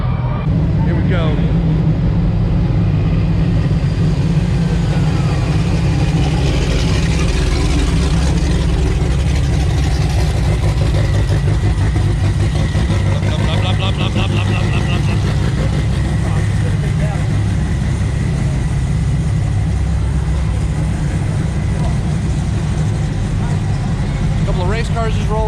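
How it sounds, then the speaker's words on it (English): Car engines rumble and idle steadily at a Lake Worth car meet as race cars roll in, a constant low, loud drone with voices talking over it throughout. "Race cars just rolled in."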